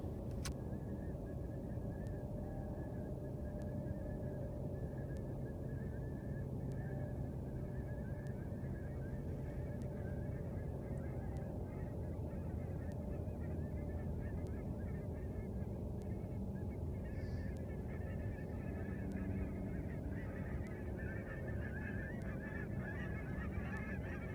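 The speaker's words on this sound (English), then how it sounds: "just how many Sandhill cranes were on our roost that night as well" A large flock of sandhill cranes calls at its overnight roost, a dense, continuous chorus of overlapping rattling bugles that is steady and loud throughout, with no pauses.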